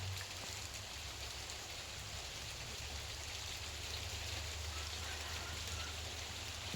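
Steady rain hisses evenly with a low rumble of wind underneath, a constant wash of sound with no breaks.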